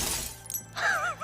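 Glass panes shatter in a quick, bright crash during a film montage. Ringing, wavering tones rise right after the crash.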